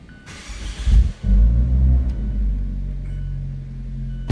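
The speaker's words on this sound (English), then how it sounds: "let's fire this up. Push button start." A 2020 Fiat 124 Spider Urbana Edition started by push button: a short starter whir, then the engine catches with a rumbling burst and settles into a steady low idle, close by.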